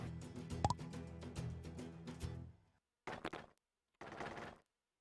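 Keplerth video game gunfire fires off a rapid burst of overlapping shots, then goes silent before two shorter separate bursts, moderately loud, with no talk.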